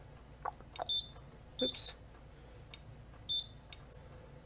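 A Wheelock Z-Series alarm device gives faint, short electronic beeps in separated clusters against quiet room tone, with one brief spoken word nearby.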